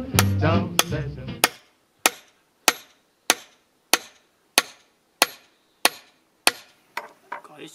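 Heavy hammer striking a wooden log, about ten sharp, evenly spaced loud whacks, with a jumble of voices and knocks at the start.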